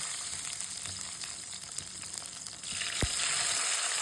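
Garlic sizzles steadily in hot oil with mustard seeds and fenugreek for a Tamil okra tamarind curry, a continuous close frying hiss that brightens and grows louder near the end, with one sharp clack partway through.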